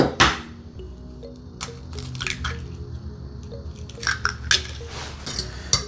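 Two eggs are cracked into a small bowl: a sharp crack and tap near the start, then wet squishes, drips and light clinks against the bowl, close and fairly quiet.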